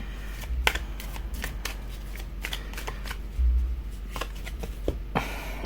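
A deck of tarot cards is shuffled by hand, giving repeated crisp riffles and soft slaps up close, with brief pauses between bursts.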